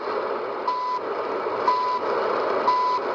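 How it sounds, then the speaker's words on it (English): Shortwave radio time signal received on a TEF6686 receiver: three evenly spaced one-second beeps, about one per second, over a steady hiss of static. "Time signal."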